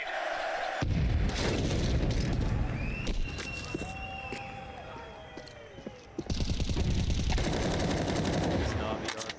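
A grenade thrown and blowing up in Counter-Strike 2, one sharp loud blast near the start and another later, surrounded by rattling gunfire and footsteps.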